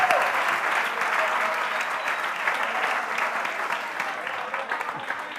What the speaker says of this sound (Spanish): Hay gente que debió aplaudir mejor que eso